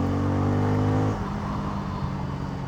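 A Bajaj Pulsar N250 motorcycle, 2025 model with a 250 cc engine, accelerates hard from the rider's seat, its strong revving drone dropping to a lower steady roar after about a second.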